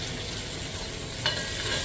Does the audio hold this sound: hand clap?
no